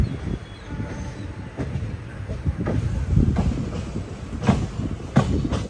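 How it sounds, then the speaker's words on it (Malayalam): Passenger train on the Guruvayur to Ernakulam run pulling into Ernakulam South railway station, a steady close rumble of carriages with irregular wheel clatter and clicks over the rails, growing slightly louder toward the end. "ട്രെയിൻ ഇതാ എറണാകുളം സൗത്ത് റെയിൽവേ സ്റ്റേഷനിലേക്ക് എത്തിക്കൊണ്ടിരിക്കുകയാണ്"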